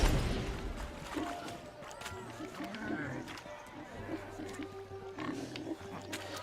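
Pigs oink and grunt from a pen in the video game The Witcher 3: Wild Hunt, repeated squeals and snorts mixed with scuffling, partly under a voice talking over them.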